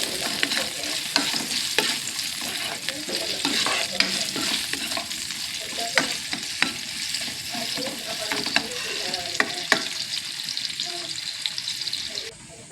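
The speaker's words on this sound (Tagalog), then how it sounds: "maglalagay tayo ulit ng oil sa separated pan. And then, i-sear natin guys. Isusot natin yung sliced ring onion." Sliced onion rings searing in oil in a separate pan after cooking beef steak, a steady close sizzle with scattered utensil scrapes and clinks throughout, no voices.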